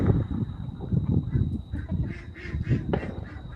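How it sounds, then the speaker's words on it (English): Several ducks quack steadily in a rapid, overlapping chorus, fairly close and clear, with no talking over them. "My little duckies. They're being noisy back there."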